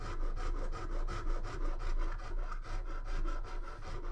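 A metal file rasps across a guitar fretboard during scalloping, with steady, rhythmic back-and-forth strokes that are close, loud and continuous, and no voices.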